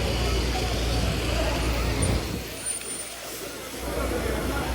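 A TNSTC government bus pulls into a roadside stop, its engine rumbling loudly before a hiss of air brakes, with traffic noise around and people talking nearby.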